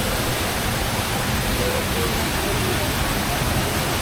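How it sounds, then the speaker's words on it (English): Steady broadband rush of a waterfall beside the treehouse at Disneyland Paris, constant and fairly close, filling the whole clip with an even hiss and no clear voices. "this waterfall next to it looks really beautiful"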